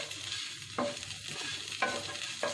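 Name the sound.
sautéing onions and mint in a pan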